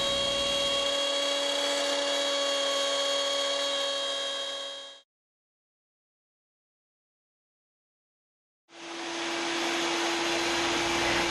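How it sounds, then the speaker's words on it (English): A router cutting through plywood gives a loud, steady high-pitched whine with a shrill tonal edge. It runs for about five seconds, stops dead for several seconds of silence, then starts up again and holds, close up with no talk. "Here I'm using a router to cut through plywood."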